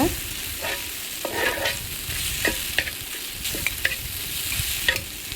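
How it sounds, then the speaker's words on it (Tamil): A spatula stirs and scrapes Maggi noodles with masala on a hot tawa, giving a steady sizzle broken by sharp, irregular metallic clacks and scrapes, close and loud with no talk. "நல்லா வந்து பரட்டி கொடுங்க"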